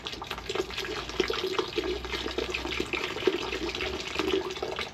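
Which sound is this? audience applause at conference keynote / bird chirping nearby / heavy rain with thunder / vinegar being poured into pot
vinegar being poured into pot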